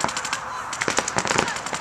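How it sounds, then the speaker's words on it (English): Rapid gunfire cracks from a multiplayer shooting game, a busy burst of shots hitting a player, with voices talking over the clattering fire. "you just got shot again!"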